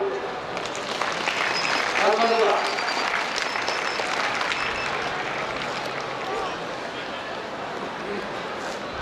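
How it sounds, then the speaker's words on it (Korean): A large hall of new students and guests at a 2001 university entrance ceremony claps in steady, dense applause that fills the whole stretch, easing slightly toward the end, while a voice briefly says thanks over it. "큰 박수 한번 줘."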